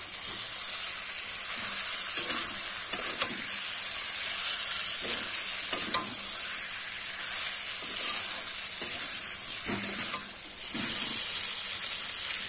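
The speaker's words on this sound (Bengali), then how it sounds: "এবার আলুর সঙ্গে কিন্তু ভালো করে মশলাটা আমি একটু কষিয়ে নেব।" Spiced potatoes sautéing in a pan give a steady, close sizzle and hiss throughout, with occasional scraping stirs of a spatula breaking through the frying noise.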